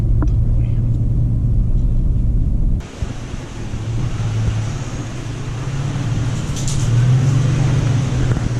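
A car drives through falling snow on the way to Mammoth Mountain in a blizzard, giving a loud, steady low rumble of engine and road noise with brief shifts in tone and a faint voice in the background.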